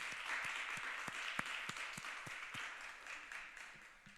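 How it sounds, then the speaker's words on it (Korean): A church congregation at a Sunday worship service claps in praise to God, soft and somewhat distant, with a few sharper individual claps standing out from the steady wash of applause that gradually fades. "우리 하나님께 영광의 박수를 다시 한번 올려드리도록 하겠습니다"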